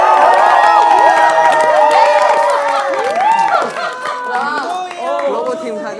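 Crowd of staff at a company workshop event cheering loudly for a called-out division, with a dense mass of overlapping shouts and whoops, strongest at the start and easing slightly but still boisterous throughout.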